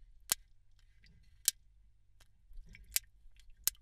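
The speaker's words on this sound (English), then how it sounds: "And while they were doing this, they heard clicking." Rig sharks handled in a controlled tank give four sharp, faint clicks spaced about a second apart, isolated against near silence with a low background hum.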